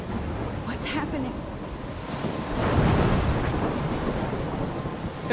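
Thunderstorm in the Life is Strange video game, with steady heavy rain and a low rumble of thunder swelling near the middle, loud and continuous throughout.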